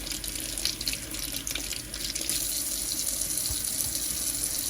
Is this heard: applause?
no